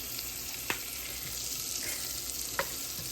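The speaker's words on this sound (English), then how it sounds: "So getting that butter, get all nice and melty first." Butter melting in a hot pan in a home kitchen gives a steady, soft sizzle and crackle, with a couple of faint clicks of a utensil and no talking.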